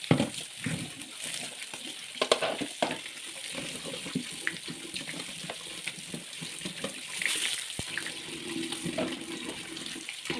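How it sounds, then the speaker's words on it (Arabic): Running water splashes in a sink as fruit is rinsed, its leaves left attached, with a steady mid-level wash of flow broken by irregular splashes and handling sounds, close by and with no voices. "دي اول شطفة اهي"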